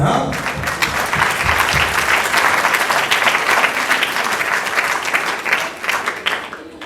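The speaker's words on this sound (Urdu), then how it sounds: "اس پہ تالی بنتی ہے." A church congregation applauds during a pastor's sermon, a dense, steady wash of clapping that stays loud and even throughout before easing slightly at the very end.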